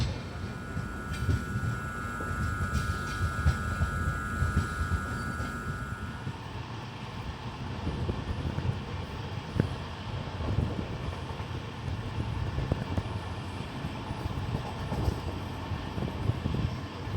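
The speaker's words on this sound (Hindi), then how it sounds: "अभी हमारी ट्रेन पहुंच गई परभनी जंक्शन" The Deekshabhoomi Express, an LHB-coach train, rolls into Parbhani Junction with a continuous rumbling, rattling roar heard from on board, and a steady whine fades out after six seconds.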